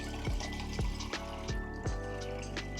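A Ninja SLUSHi machine on its rinse cycle dispenses water, a steady close pour with a running motor hum and several soft knocks and clicks.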